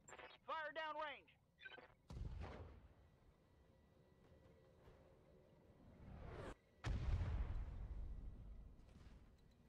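Heavy weapons fire in the mech combat game Battletech, two booming blasts with long rumbling tails and crackling debris, loud and close, after a short burst of radio-style voice chatter.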